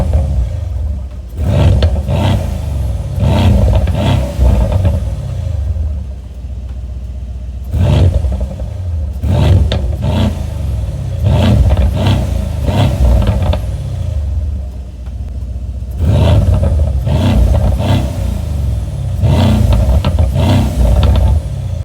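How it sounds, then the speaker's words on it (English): A 2019 Mercedes-AMG C63 S engine on a test drive, loud and close, surging through repeated bursts of heavy rumbling acceleration with short lulls between pulls, no voices. "a sound clip of the 2019 models when I went on my test drive"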